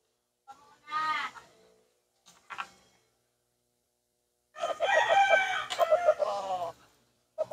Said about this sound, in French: Coq de combat. Ah, Yeah. Fighter. Yeah, fighter rooster.